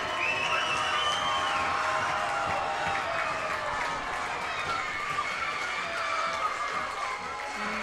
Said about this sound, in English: now everybody's clapping